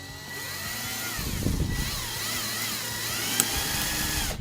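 A small self-tapping screw being driven into wood near the edge with a power driver, a close whirring motor drone that rises and wavers for a few seconds.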